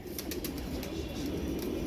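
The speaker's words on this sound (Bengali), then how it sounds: "এটা হলো বসির ভাইয়ার মানে অসাধারণ কবুতর" An old, favourite loft pigeon coos softly in a steady, continuous murmur, with a few faint chirps above and no talking.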